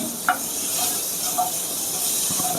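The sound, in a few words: chicken lightly frying in butter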